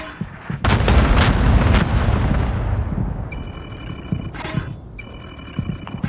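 A bombing run in Call of Duty Warzone sets off heavy, rumbling explosions that boom and crackle, loud at first and tapering off, followed by sharp electronic interface beeps.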